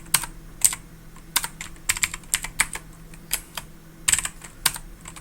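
Keystrokes on an unfamiliar computer keyboard, tapped in irregular bursts and short runs of quick clicks with brief pauses between, close and moderately loud, with no voices.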